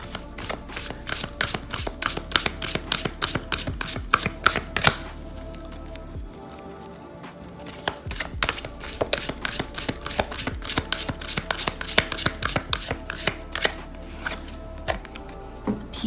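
Tarot cards are shuffled steadily, a rapid run of crisp riffling flicks and taps close by, with a brief pause midway before the shuffling resumes.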